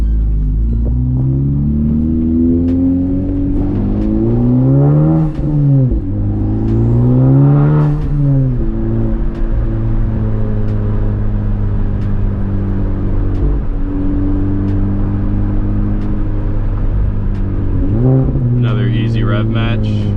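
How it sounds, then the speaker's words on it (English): A modified Honda Civic Type R FL5 rolls over speed bumps with a steady engine rumble and a few rising revs, heard close from inside the cabin while a driver talks over it. "I'm going over some speed bumps now"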